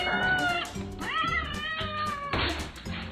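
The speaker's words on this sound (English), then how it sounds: "This is Pirate Cat annoying his owners to let him out." A house cat meows insistently to be let outside, giving several loud, drawn-out yowls in close succession, close to the listener and with no other sound over them.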